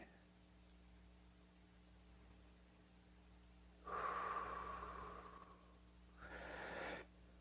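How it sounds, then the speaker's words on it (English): Slow, deep breathing during meditation: a long, airy inhale lasting about two seconds, then a shorter second breath, close and soft against a quiet background hum. "Of course, deep breathing."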